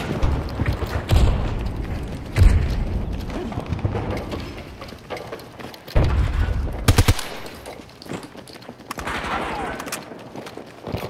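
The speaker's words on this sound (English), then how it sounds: "Grenade out!" Battlefield combat erupts with a grenade explosion and bursts of rapid gunfire: heavy booms and rattling volleys recur across the scene, loud and close, with shorter quiet gaps between them.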